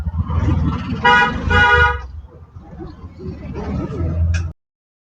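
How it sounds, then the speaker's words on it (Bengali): Auto-rickshaw ride through Kolkata traffic on New Year's Eve, with a car horn giving two loud honks near the start amid rumbling engines and street noise, and voices talking nearby. "এখন এপারে অটোতে উঠেছি"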